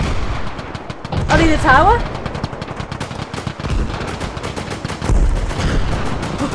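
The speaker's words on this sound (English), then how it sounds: "Where are the shots coming from?" Gunfire in Arma Reforger fills a hometown-defense battle: loud machine-gun bursts and single shots come in rapid, uneven runs, with people talking briefly over the shooting.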